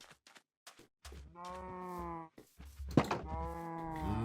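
Cows mooing in Minecraft, a few short low calls and then two long drawn-out moos close by, with brief gaps of quiet between them.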